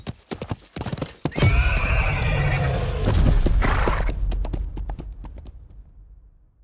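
A horse in the video game Love and Deepspace gallops with rapid, loud clip-clop hoofbeats after a few separate steps, then neighs, and the hooves slow and fade toward the end.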